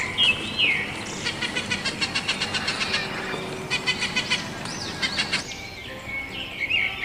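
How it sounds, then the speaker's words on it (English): A parrot squawks and chirps in quick repeated bursts with rapid trilling calls and bright whistled notes, close and fairly loud over a steady background, with no talk. "P for parrot."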